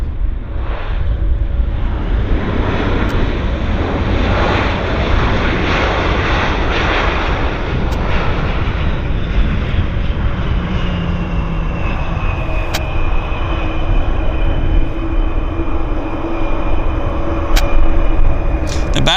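Alaska Airlines jet arriving from SeaTac at Vancouver airport: a loud, continuous engine roar with wind buffeting the microphone, and a rising whine that thins out in the second half as the plane passes.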